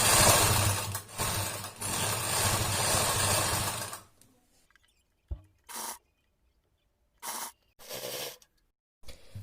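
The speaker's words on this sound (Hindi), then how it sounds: "यहां पर हमने सिलाई लगाते जाना है।" A sewing machine stitches a bra strap, a loud steady mechanical whir for about four seconds, followed by several short separate bursts of stitching amid quiet pauses.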